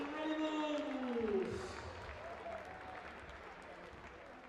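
A crowd applauds and cheers for the Solent Ravens dance team at a senior men's sports match, a broad wash of clapping while an announcer talks over a PA.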